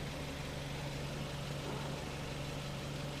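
A 2014 Volkswagen Jetta 2.0L with a leaky cylinder 2 fuel injector and misfire, its engine running steadily with a low, even hum and a faint roughness throughout, heard close with no talk.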